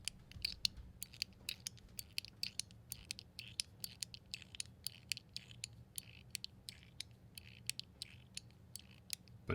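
Rapid, crisp little clicks and snaps repeat in a steady stream, a quiet plastic zipper plate fidget toy being worked close by with no talking.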